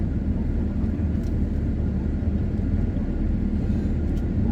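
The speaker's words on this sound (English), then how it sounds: "that's a sheriff helicopter" Sheriff helicopter passing low over a riverside area near an airport, heard as a steady, continuous low rumble and drone with no talking.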